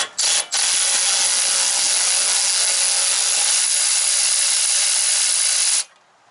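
A wrench works loose a Moog replacement suspension end link with an updated bushing on a Toyota Supra MKVI, giving a steady, loud ratcheting rasp that runs nearly six seconds after two short clicks at the start, with no talking.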